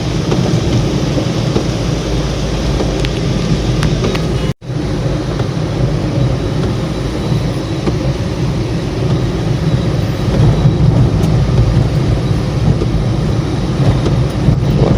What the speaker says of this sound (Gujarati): વરસાદ બાકી જોરદાર પડી રહ્યો છે.